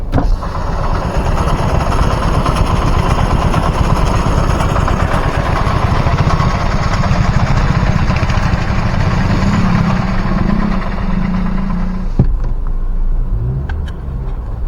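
A long queue of vehicles idles in heavy traffic outside Lulu Mall in Kottayam, giving a steady, loud engine rumble and hum. The drone drops off abruptly near the end.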